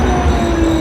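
A train at a station in Poland, heard as a steady, loud low rumble with a sustained tonal hum, close by and continuous with no voices.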